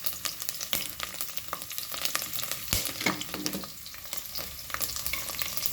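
Chopped garlic and spices sizzling in oil in a pan, a steady dense crackle with scattered louder pops and occasional stirring scrapes, heard alone without voices.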